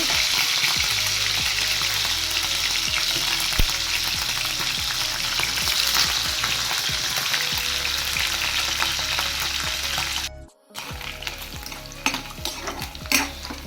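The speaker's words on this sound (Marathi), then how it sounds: "पण कुठलाही पनीर असं फ्राय करून टाकलेले जास्त चांगलं आहे" Paneer pieces fry in hot oil in a pan, giving a steady, loud sizzle with bursts of stirring throughout. The sound cuts out briefly near the end and then resumes more faintly.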